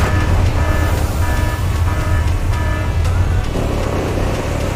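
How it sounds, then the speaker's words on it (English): A road roller's engine runs at a road construction site, producing a loud, steady diesel rumble with a constant low drone that holds throughout. "The road roller starts its job,"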